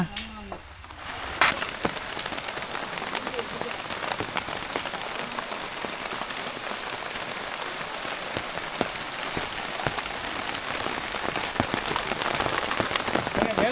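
Rain falls steadily on the surfaces of a house construction site, a dense continuous patter with scattered louder drops that keeps up throughout.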